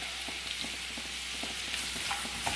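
Onions and curry leaves sautéing in a pan while a cauliflower masala is being made, giving a steady soft sizzle with faint scraping stir sounds, quiet and without talk.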